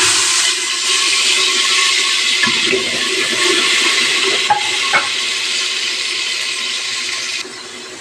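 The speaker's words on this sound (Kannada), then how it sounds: "ಇವಾಗ ಎಣ್ಣೆ ಕಾದಿದೆ ಇವಾಗ ನೋಡಿ ಶುಂಠಿ ಮತ್ತು ಬೆಳ್ಳುಳ್ಳಿ ಮತ್ತು ಒಂದು ನಾಲ್ಕು ಹಸಿರು ಮೆಣಸು ಈ ಪೇಸ್ಟ್ನ ಇದ್ದೀನಿ" Ginger, garlic and green chilli paste frying in hot oil, making a loud, continuous sizzle and hiss with a few soft stirring knocks, no voices.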